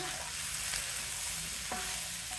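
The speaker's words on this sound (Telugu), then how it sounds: "ఒకసారి తిప్పి" Pumpkin curry being stirred in a frying pan, with a steady broadband sizzle throughout and a couple of brief scraping strokes from the spoon against the pan, close and fairly loud, with no talking.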